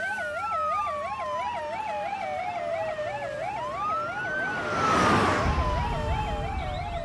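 An ambulance siren wails in a fast, warbling yelp alongside a long sweeping tone, loud and close, with a passing vehicle's rush swelling midway.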